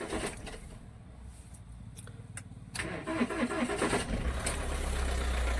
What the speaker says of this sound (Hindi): उधर काम हो चुका है, करते हैं गाड़ी को स्टार्ट।